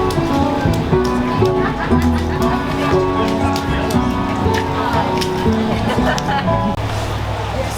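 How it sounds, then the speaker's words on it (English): Steady rain falls on an outdoor woodworking craft show during a hurricane, a constant wash of patter and drips with voices and crowd chatter running underneath. "So it's raining again, on and off."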